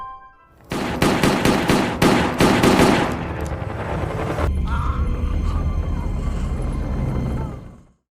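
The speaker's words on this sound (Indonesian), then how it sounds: "Mark dan Hayes berencana untuk membunuh Catherine dengan cara menembaknya." A rapid series of loud gunshots rings out in quick succession, then gives way to a sustained rumbling roar that fades out.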